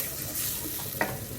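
Rice being stirred through a sautéed tomato and onion base in a pan for Portuguese tomato rice, with soft scraping and a faint sizzle, plus one sharp spoon knock near the end.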